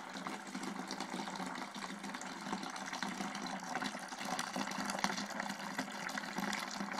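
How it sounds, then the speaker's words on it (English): Filtered homebrew beer pours steadily into a final bottling bucket, a continuous watery rush and splash at close range with no pauses throughout. "Now I'm transferring it back after I filtered it into a final bottling bucket"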